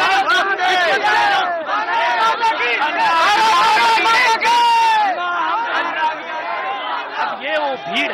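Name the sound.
large protest crowd at Ramlila Maidan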